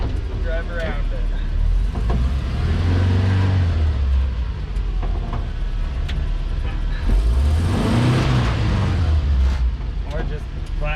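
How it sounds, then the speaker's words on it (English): A 1966 Toyota Stout truck built on a Toyota 4Runner chassis rolls forward, its engine rising and falling in pitch as it pulls ahead, with a person talking over the steady engine noise throughout. "I gotta pull forward a little bit and kind of drive around it."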